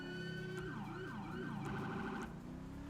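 Police patrol car siren in a video game roleplay as a state trooper, loud and close, wailing up and down in repeated smooth sweeps over a steady tone, with no one talking.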